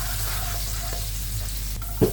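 Garlic sizzles steadily in a hot pan as the first step of pancit canton or bihon. The frying hiss stays quiet and even, and a short utensil clack comes near the end.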